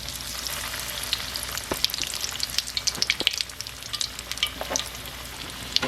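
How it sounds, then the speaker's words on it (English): Food frying in hot oil during snack cooking, a dense continuous sizzle with crackling pops scattered throughout, close and fairly loud, no voices. "then we're gonna go over and do some frying."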